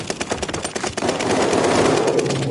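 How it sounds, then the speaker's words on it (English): Rapid video-game gunfire, a sustained burst of automatic shots that thickens into a continuous loud volley, with the player being hit. "They're shooting me in my legs and shit."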